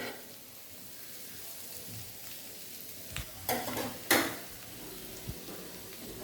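Bitter gourd and potatoes frying slowly in a pan, a soft steady sizzle broken by a few louder stirring scrapes and clacks of the spatula near the middle, with no talking.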